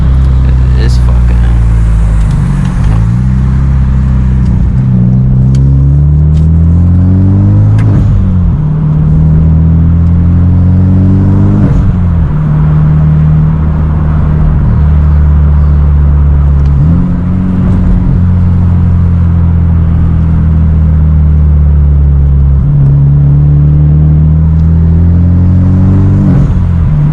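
A Hyundai Genesis Coupe 2.0T fitted with a Tomei Extreme titanium exhaust drones loudly and continuously, its deep burbling note rising and falling as the engine revs climb and drop at low RPM.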